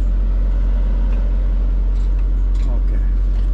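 A truck engine running at a steady low rumble, close and loud throughout, with faint voices in the background.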